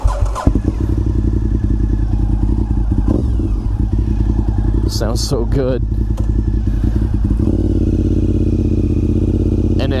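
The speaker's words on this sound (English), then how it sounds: "let's go ahead and hear this exhaust" A Honda RC51 V-twin motorcycle's exhaust revs and idles loudly up close, a deep lumpy throb with a few quick blips and rattles, and someone speaks briefly over it.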